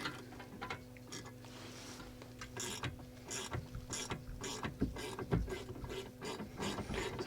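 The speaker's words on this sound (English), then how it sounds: "You can see me struggling somewhat here with my ratchet screwdriver." Ratchet screwdriver working a bolt loose on a Mercedes C350e during a 12V battery swap, giving a quiet, irregular run of clicks and mechanical rattles over a low steady hum.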